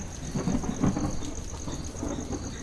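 Rain falling in an evening downpour that has suddenly eased to a drizzle, with a low rumble of thunder throughout; a steady wash of drops and a deep rolling undertone, no voices.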